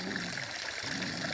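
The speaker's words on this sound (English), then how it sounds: "I can make this waterfall happen and it clears that one out a little bit" Water trickles over a small waterfall feeding a backyard duck pond, a steady, close, low-level splashing and babbling with no voices.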